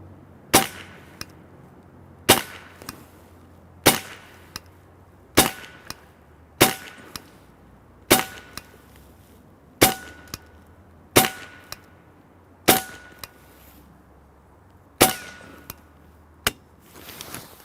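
A PCP semi-auto .22 caliber air rifle fires eleven sharp, evenly spaced shots at 50 cal brass set on a table, each crack ringing briefly against a quiet background, with no talking.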